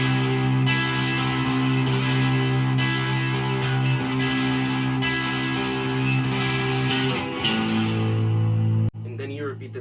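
Guitar strums chords from a song through a transition, a dense steady wash of sustained strumming that shifts near the end and then stops abruptly.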